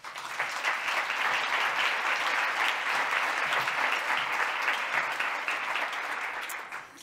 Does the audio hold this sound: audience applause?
yes